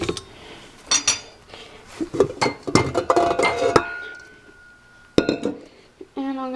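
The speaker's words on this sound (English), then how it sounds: "So I'm just going to scrape off my dough hook." Metal clinks and scrapes come from a spatula or utensil clearing baguette dough off a stand mixer's dough hook, in irregular bursts of clattering taps with quieter pauses between them.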